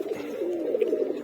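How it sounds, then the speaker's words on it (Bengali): Domestic pigeons cooing steadily in a loft, a continuous low, throaty warble with overlapping calls, fairly close and moderately loud, with no voices. "আমার কবুতরগুলো আমি লক করে দিছি আগামী 2 মাসের জন্য"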